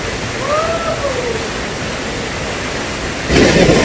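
Panding Magarang waterfall near Ugou Stream Garden in Poring, Ranau, Sabah, roars with a dense, steady rush of falling water. A faint whistling tone sweeps through early, and the roar swells louder near the end.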